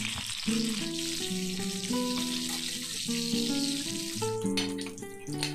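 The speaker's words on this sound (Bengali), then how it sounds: "প্রথমেই কড়াইতে তেল গরম করে ইলিশ মাছের মাথা দুটোকে ভেজে তুলে রাখবো।" Hot oil sizzles and crackles continuously in a pan as hilsa fish heads fry, while a tuneful melody plays over it.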